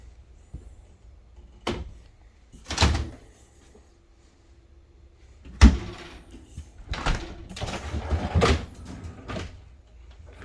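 Doors of a large LG double-door refrigerator with an ice maker and freezer drawer below, inside a 2022 Forest River Sierra 391FLRB RV, opening and closing with several separate thumps and clunks, close and moderately loud, with quiet pauses between.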